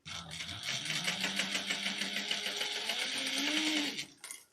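A sewing machine back stitching the start of a seam on a vintage-style handbag, running steadily and loudly for about four seconds before stopping, with a brief rattle at the end and no speech.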